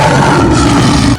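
A lion roar sound effect, loud and sustained for just over a second, with a deep rumbling growl that cuts off abruptly at the end.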